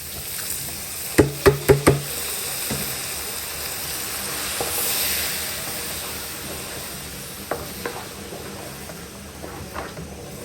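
Rice frying for Nigerian fried rice sizzles steadily in a pan, with a quick run of sharp knocks near the start and a few lighter taps later, all fairly quiet with no talking.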